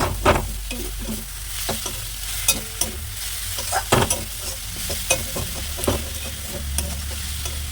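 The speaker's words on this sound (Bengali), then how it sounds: "আবার একটু নাড়িয়ে চাড়িয়ে নিই ভালো করে" Leafy greens frying in a wok (kadai) and being stirred, with a continuous sizzle broken by repeated scraping and clattering strokes of a spatula, close and fairly loud, with no talking.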